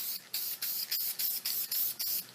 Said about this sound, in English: just using a spray adhesive,